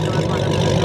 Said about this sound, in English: Hey y'all, that Hellcat sound good.